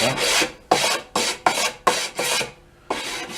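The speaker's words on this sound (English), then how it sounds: "We'll touch up some sandpaper." Sandpaper rubbed by hand over a mini lathe base part in rhythmic, close rasping strokes, about eight in a row with brief pauses, no voices.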